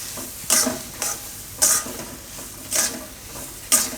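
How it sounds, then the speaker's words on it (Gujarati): Suji besan halwa with melting sugar being stirred in a pan, a spoon scraping in regular strokes about twice a second over a soft, steady sizzle, close up and without talk. "થોડીક વાર આને હલાવી લે"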